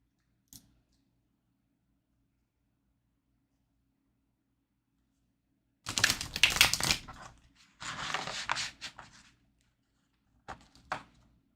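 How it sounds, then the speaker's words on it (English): Tarot cards are shuffled in a few brisk bursts of riffling and sliding, separated by silence, close to the microphone. "Let's shuffle your tarot."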